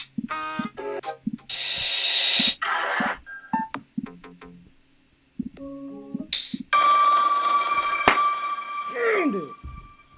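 A telephone bell rings among a jumble of short electronic tones and bursts, with brief voices in between.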